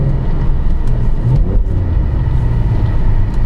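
A BMW E46's engine rumbles steadily and close through a heel-toe downshift, with a brief throttle blip near the middle lifting the revs before settling back to a continuous drone.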